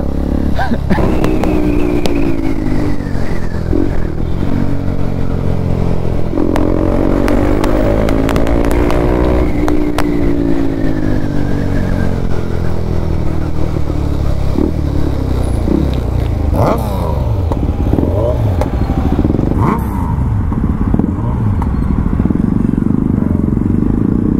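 A KTM RC 390 motorcycle with an Akrapovic slip-on exhaust revs hard, loud and raspy, pitch rising and falling through several throttle blips, up close and continuous.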